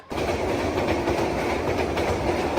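A train rolls through Bhairab Bazar junction railway station in Kishoreganj, Bangladesh, a steady close rumble with rhythmic clickety-clack of wagons over the rails, heard alone.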